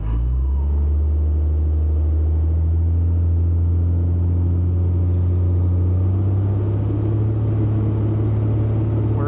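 A diesel 2006 Dodge race truck engine spools up in manual mode, a loud, steady low rumble with rising harmonic tones building over about nine seconds, with no talk over it.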